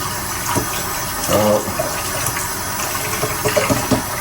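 Water runs and splashes steadily as fish is washed before frying, with brief louder gushes and small knocks, close and continuous for a few seconds.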